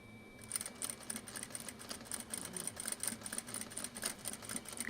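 Sewing machine stitching and back-stitching a seam, a steady rapid mechanical whir with rhythmic needle ticking, close and continuous throughout, with no talking.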